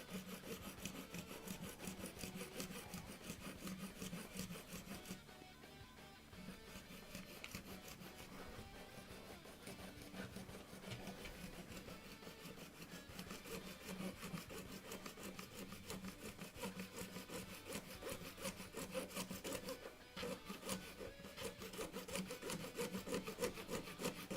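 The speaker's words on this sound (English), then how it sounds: "Being very careful I don't cut at the wrong angle and end up like sawing into the part" Steady back-and-forth strokes of a hand saw cutting through a hard plastic Gunpla model part, close and continuous, with a brief pause partway through.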